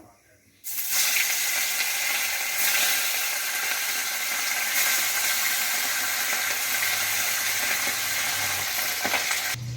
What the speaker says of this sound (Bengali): এবার আমি মাছগুলো তেলের মধ্যে ছেড়ে দেবো